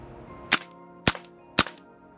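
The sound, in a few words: airsoft PP-2K gas blowback SMG firing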